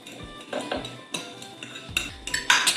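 A spoon stirs lemon pepper seasoning in a bowl, with steady scraping and clinking of metal on the dish and a few sharper taps near the end, close up and with no talking.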